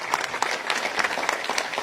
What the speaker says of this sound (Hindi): सब जोरदार तालियां बजाएं।